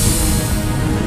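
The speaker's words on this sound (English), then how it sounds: "That is the sound of a tire losing all of its air pressure." A bicycle tire on a coast-to-coast cross-country ride loses all its air pressure while climbing Jackrabbit Trail, a steady loud broadband rush of escaping air mixed with outdoor noise, continuous without a break.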